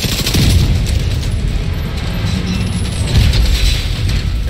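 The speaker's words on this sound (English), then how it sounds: "Now shoot up there." Dense rapid gunfire from a video game fight against a Razorback, a loud continuous barrage of shots and booms with no pauses.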